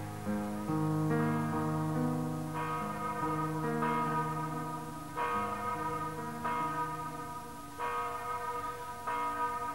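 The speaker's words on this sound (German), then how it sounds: "Zur Erinnerung läutet alljährlich am Tag der Katastrophe nachmittags um 5 Uhr die große Glocke der Kirche in Goldau." The large bell of the church in Goldau rings out in slow, heavy strokes, each deep resonant clang overlapping the fading hum of the last, steady and loud with no voices present.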